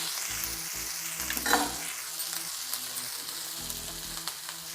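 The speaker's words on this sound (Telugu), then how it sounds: "ఫ్రై చేసుకోవాలి." Cumin, green chillies and curry leaves frying in a pan, a steady close sizzle with occasional stirring scrapes and a brief louder spatter burst, no voices.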